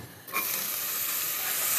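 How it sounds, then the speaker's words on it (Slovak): Chopped onion and garlic sautéing in olive oil in a heated pot, a steady close sizzle and hiss that starts abruptly as the vegetables hit the oil and holds on without talk. "Cibulu s cesnakom na olivovom oleji v krátkosti orestujeme"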